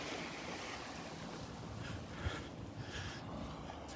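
Faint, steady wash of Gulf surf and breeze on the beach at Delnor-Wiggins Pass in North Naples, Florida, heard from a distance with no voices.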